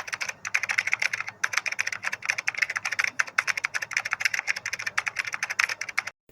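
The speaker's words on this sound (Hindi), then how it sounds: "Paragraph typing sound effect." Rapid computer keyboard typing of a paragraph, a dense, continuous patter of close key clicks with brief uneven gaps, steady and loud throughout with no voices.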